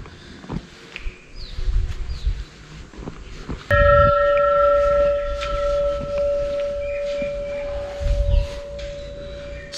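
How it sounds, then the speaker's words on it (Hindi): A bell rung by hand at a Hanuman temple, one clear metallic strike that rings on with a long sustained tone over outdoor crowd murmur and footsteps. "मैं घंटी बजा पाऊंगा कि नहीं।"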